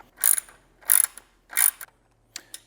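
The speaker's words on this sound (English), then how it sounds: "put the 7/16 nut on there, and then snug this down" A 7/16 nut is snugged down on a ramp assembly in three distinct bursts of close, clicking ratchet sounds, followed by two fainter short clicks.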